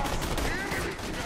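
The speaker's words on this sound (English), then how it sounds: "It's my Joker carbine." Joker carbine assault rifle fire in Borderlands 2, heard as a dense, loud run of shots with a voice talking over parts of it.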